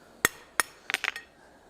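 A hammer striking a metal bar on an anvil during cold forging at a blacksmith's workshop: two separate ringing blows, then a quick cluster of lighter, closely spaced taps, all nearby and with no talking.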